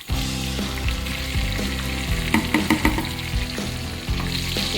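Cumin, mustard seeds, bay leaf, green chillies and curry leaves frying in hot oil for a biryani-style dish, a steady close sizzle with a few sharp crackles and pops midway and no talking.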